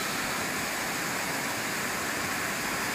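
The Chelimichenu waterfall drops between two hills with a constant hiss of rushing water, steady and fairly loud, and no voices.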